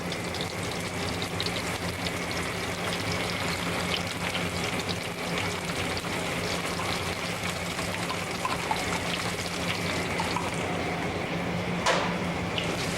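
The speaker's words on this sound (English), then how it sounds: "fry this paste right in with the mirepoix and fat" Tomato paste fries in a pan with mirepoix and fat for a brown stock, giving a steady, close sizzle and crackle that runs unbroken and fairly loud throughout, with no voices.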